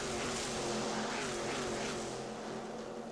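Steady, continuous roar of IROC race car engines at close range at Darlington in 1994, a dense wash of motor noise with a slight rising and falling pitch as cars pass.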